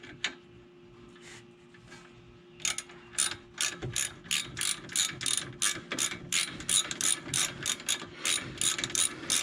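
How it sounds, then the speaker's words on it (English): Ratchet wrench driving a bolt on the rear shock of a Ford Freestar minivan, a 15 mm socket on the bolt: after a quiet start, a fast run of sharp clicking bursts, close and steady, with no talk. "What I'm gonna do is get the wrench, start tightening it down."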